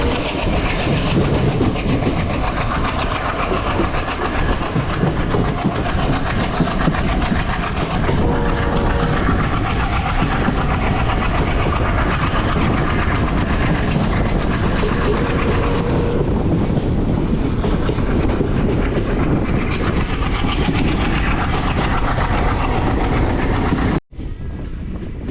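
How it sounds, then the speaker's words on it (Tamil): Diesel locomotive train running on the Kollam–Sengottai line in India, a steady loud engine drone with rumbling wheels and faint clickety-clack, continuous throughout and ending in a brief dip near the close. "டீசல் இன்ஜின் சவுண்டை மட்டும் கேட்டுகிட்டே வாங்க மக்களே,"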